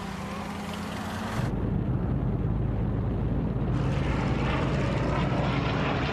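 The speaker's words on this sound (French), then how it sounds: "Les avions et l'artillerie alliés vont les matraquer sans relâche." Allied WWII aircraft drone overhead in a documentary soundtrack, a loud continuous propeller-engine roar that swells after a short quieter start and holds steady without talk.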